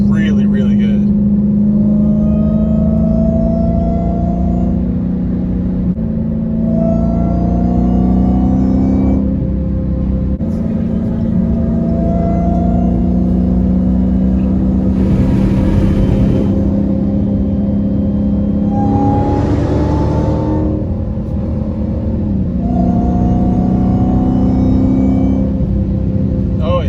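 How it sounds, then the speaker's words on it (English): A Dodge Hellcat Charger with a Borla ATAK exhaust revs repeatedly, each deep roaring rise and fall loud and close, with a steady rumbling idle between pulls and occasional talk mixed in. "Hellcat, BORLA ATAK. Sounds like a race car. It sounds glorious."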